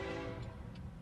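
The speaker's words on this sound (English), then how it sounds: "that train kept on coming" A train approaching along railway tracks toward a semi truck stalled on the line, a loud, steady rumbling roar that fills the whole moment without pause.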